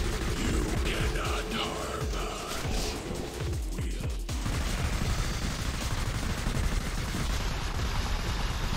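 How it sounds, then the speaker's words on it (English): Gunfire in the sci-fi horror video game Hollow 2, rapid bursts of shots fired in dense, continuous volleys amid heavy background noise, fairly faint overall. "Is my gun even hitting him?"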